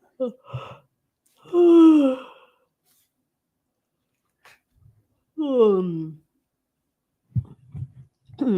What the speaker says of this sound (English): Pardon me for the yawn.